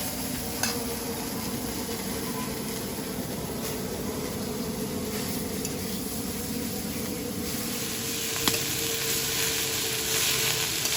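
Wild greens and shrimp sizzling in a frying pan while being stirred, a steady close crackle with occasional scraping clicks of the spatula, no speech.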